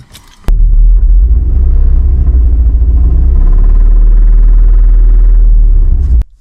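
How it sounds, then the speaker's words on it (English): A Volkswagen VR5 engine revved in place, its deep rumble holding loud and steady for about six seconds and growing louder as the revs climb, then cutting off abruptly. "as the revs are going up, it's getting louder"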